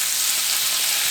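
A seasoned fish fillet sizzles steadily in a hot pan as it crisps on one side, a dense, close, continuous frying hiss with no voices.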